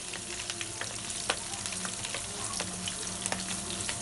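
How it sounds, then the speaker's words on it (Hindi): Sliced green chilies and garlic fry in oil in a pan, a steady close sizzle with scattered crackles and pops throughout. "इसमें हम लंबाई में कटी हुई हरी मिर्चें और लंबाई में कटा हुआ लहसुन फ्राई कर लेंगे।"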